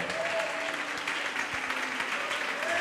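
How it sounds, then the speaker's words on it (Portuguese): A worshipping congregation at a church service gives continuous, full applause at an even level, with faint voices and a brief tonal sound in the background. "vamos aplaudir ao nome do Senhor."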